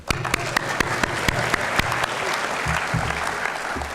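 An audience claps at a convocation ceremony in a hall, with dense sustained applause and sharp individual claps standing out close by throughout.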